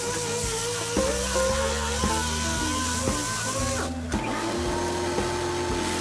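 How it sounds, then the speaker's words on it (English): A steady mechanical whirring hum of an orbital sander smoothing a mower surface runs continuously, loud and close, with a brief dip near the middle. "Then, I use an orbital sander to smooth out the surface."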